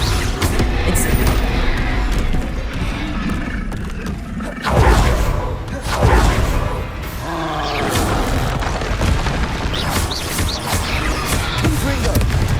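A fire spell being cast in the video game Hogwarts Legacy: loud, dense rushing blasts over a sustained roar, with a sharp burst near the middle, under constant game action and a voice calling out.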